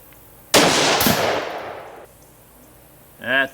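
A single loud crack of a stock Ruger Precision Rifle is followed by a long echo that decays over about a second and a half, then a brief voice speaks.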